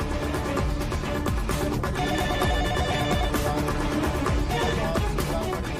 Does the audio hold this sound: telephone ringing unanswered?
yes